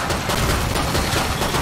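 Gunfire in the video game Killing Floor 2, a dense, continuous rattle of rapid shots at steady loudness with no talking over it.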